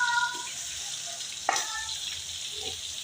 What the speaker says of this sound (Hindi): चिकन और प्याज मैंने इकट्ठा फ्राई करना है।